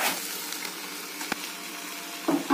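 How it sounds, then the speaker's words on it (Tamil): Fried bread pieces for chilli bread are tossed into masala in a pan, giving a dense, steady sizzle with a couple of sharp scrapes and a louder stir at the end, brief and close. "வறுத்து வச்ச இந்த பிரெட்டை அதில் போட்டு மசாலால போட்டு மிக்ஸ் பண்ண வேண்டியதான்."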